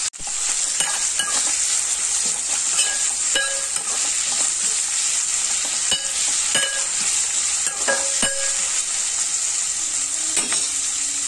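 Curry leaves and green chillies sizzle steadily in a hot pan while being stirred, with soft scraping strokes and light clinks against the pan throughout.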